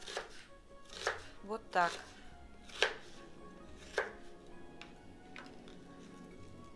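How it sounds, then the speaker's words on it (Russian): A kitchen knife cuts an onion into large wedges on a board, giving a string of crisp, irregular chops and crunches, close and fairly quiet, with a brief spoken phrase. "Лук я буду резать перьями, потому что нам нужны крупные куски."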